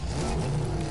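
A Fortnite car engine hums and revs in a short, steady burst with a low throaty drone.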